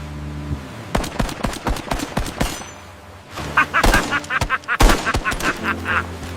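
Gunfire cracks out as sharp repeated reports, first widely spaced and then in denser bursts, mixed with honking, goose-like squawks in a dramatic AI-generated scene.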